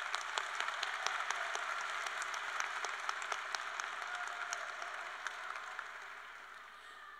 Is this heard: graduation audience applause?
yes